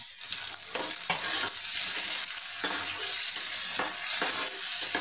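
Onion, garlic and tomato powder frying in a pan for a light okra chorchori, a loud continuous hiss and sizzle broken by repeated stirring scrapes, heard close with no talk.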